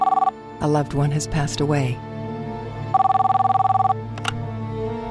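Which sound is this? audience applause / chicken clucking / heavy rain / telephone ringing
telephone ringing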